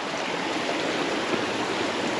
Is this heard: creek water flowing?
yes